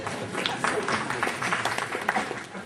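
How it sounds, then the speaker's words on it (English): An audience claps and laughs at a spiritual talk about Swami, the applause a dense, even patter of many hands with scattered voices mixed in. "Everybody laughed and clapped, as you are doing now."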